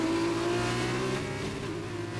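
A race car on track tries an overtake, its engine holding a loud, close, sustained high-revving tone with steady harmonics for a couple of seconds and no voices over it.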